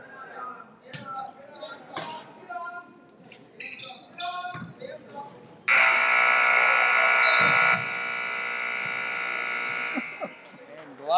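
A loud, sustained electronic buzzer ends a quarter at a high school boys basketball game, holding steady for about four seconds over crowd noise and bouncing balls, then dropping slightly in level before cutting off.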